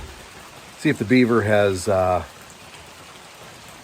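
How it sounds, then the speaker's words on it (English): Steady rain falls outdoors on a nasty, wet day, a soft continuous hiss that runs throughout while a person speaks briefly in the middle. "It is nasty and rainy"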